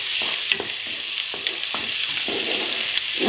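Potatoes sauté in an oiled pan with onion, garlic and tomato paste, giving a constant bright sizzle. Rhythmic scraping strokes from stirring recur every half second or so, close and fairly loud.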